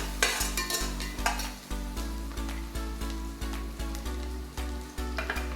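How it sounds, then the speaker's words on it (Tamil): Onions sauté in a pot for chicken biryani, a soft continuous sizzle under regular clinks and scrapes of a spoon against the pot, close but fairly quiet, with a low steady hum beneath. "ஆனியன் நல்லா வதங்கட்டும்."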